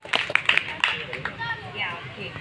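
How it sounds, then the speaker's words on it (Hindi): Scattered clapping from a crowd, uneven and fairly brief, mixed with background chatter and a voice. "जोरदार तालियां।"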